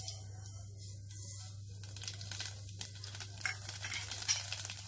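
Nigella and mustard seeds sizzle in hot oil, a soft, steady crackle close to the mic but quiet, with a low constant hum underneath and occasional faint stirring noises.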